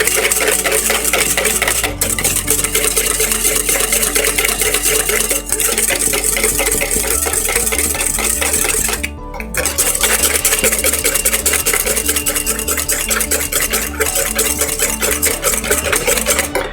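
A hollandaise mixture is whisked until frothy: a loud, dense and continuous scraping rattle of the whisk against the bowl, close and unbroken apart from one brief pause, with no talking.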